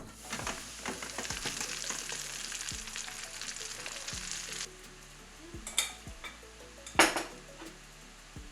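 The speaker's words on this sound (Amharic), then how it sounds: "መጥበሻ ላይ እናደርጋለን ማለት ነው።" Beans fry in a frying pan with a steady close sizzle. Utensils scrape and stir, and a few sharp metallic clinks and clanks ring out toward the end. Nobody speaks.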